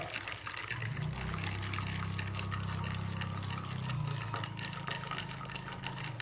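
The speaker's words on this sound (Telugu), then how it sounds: "ఈ రోస్టెడ్ పీనట్స్ని వాటర్లో వేస్తున్నాం కదా" Hot roasted peanuts tipped into turmeric salt water, giving a steady close sizzling, bubbling pour that runs continuously for about six seconds without pause.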